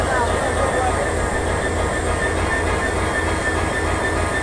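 A passenger train hauled by a 6639 American Giant locomotive rumbles along close by in a loud, continuous roar with faint wheel squeal, and a voice can be heard talking under it.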